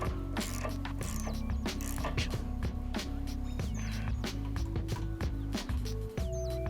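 Ratchet tightening the nut on a front sway bar endlink with an Allen head held on the stud, a rapid run of close clicks in short bursts with brief pauses between strokes.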